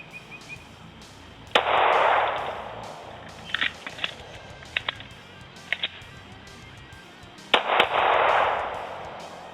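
Handgun fired at a target during a combat speed-reload drill: one sharp, loud report, a series of clicking metallic reload handling noises, then another loud shot, heard outdoors without talk.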